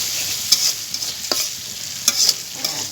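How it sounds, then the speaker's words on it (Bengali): Onions fry with a ginger, garlic and cumin spice paste in oil as a spatula stirs them, bright continuous sizzle broken by quick scraping strokes, close and fairly loud, no voices. "মশলা দিয়ে একটু কষাই নেবো পেঁয়াজটাকে"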